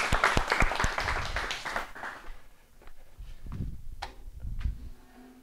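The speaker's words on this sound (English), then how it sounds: "Big, really needs a bigger round of applause." A small audience at a beekeeping talk claps for about two seconds, then the applause fades into scattered footsteps and soft thumps in a quiet room.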